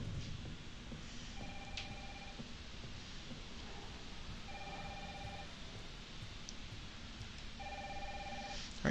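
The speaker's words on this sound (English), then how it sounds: "the phone is ringing, so maybe we should go answer" A telephone rings in Resident Evil 3 in three short repeated bursts, set against a steady hum of game ambience with no talking.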